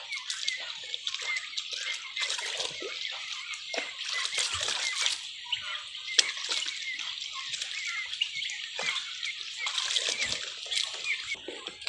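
Water splashing and sloshing steadily while a turkey is bathed, close and continuous with brief louder splashes.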